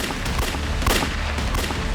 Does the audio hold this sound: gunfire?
yes